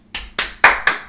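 A few people clap together in a room, five sharp, close hand claps at a steady pace, loud and alone, with no voices.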